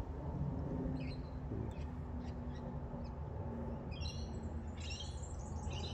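Wild birds and ducks in a park, with faint scattered chirps and short calls over steady low background noise, distant and quiet.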